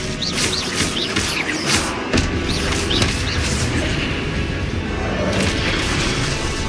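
Expelliarmus disarming spells cast in the Hogwarts Legacy video game. Several booming magical blasts with quick swooshing chirps repeat steadily over a dense, loud bed of game sound.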